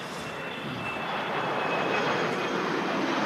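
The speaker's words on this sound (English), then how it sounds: "It's an Embraer 145. Very long, skinny aircraft." An Embraer 145 regional jet takes off at Manchester Airport, a broad, steady roar of engine noise that swells slightly over a few seconds, heard from a distance outdoors.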